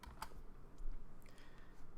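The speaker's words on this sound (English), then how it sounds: "type 10 feet on my keyboard" A few quick keystrokes on a computer keyboard, typing a short value during CAD drafting work, clicking lightly and close up over a faint background hum.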